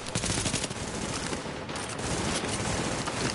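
Sustained, dense enemy gunfire in The Division video game, rapid overlapping automatic bursts and shots filling the whole moment at a loud, constant level with no talking.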